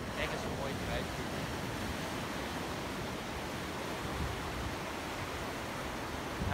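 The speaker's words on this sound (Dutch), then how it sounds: "we wilden best wel even naar de beach komen en even luisteren naar de mooie zee hier" Sea waves breaking on a beach at Cape Town, heard as a steady, broadband wash of surf with wind noise against the microphone, continuous and fairly loud throughout.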